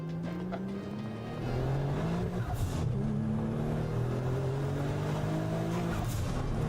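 Engine of a car driven in a video game, a steady droning hum with rising and falling pitch as it revs and shifts, loud and continuous throughout with no talk.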